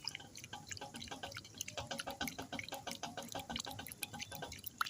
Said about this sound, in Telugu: ఇలా మనం ఇలా గాలించుకోవడం వల్ల రాళ్ళు మొత్తం కింద ఉంటుంది, బియ్యం మొత్తం వచ్చేస్తాయండి.